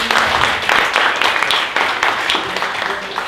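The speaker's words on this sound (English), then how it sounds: "another round of applause for Dean the Human Microphone" Sustained applause from an audience at a Cosmos HackAtom hackathon event in Berlin, a dense steady wash of many hands clapping close by, with faint voices mixed in.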